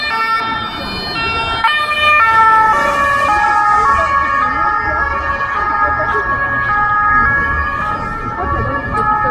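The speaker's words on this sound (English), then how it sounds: "Also, everywhere you go, there seem to be sirens." A loud emergency siren wails close by on a Paris street, its pitch sweeping up and down repeatedly over traffic rumble.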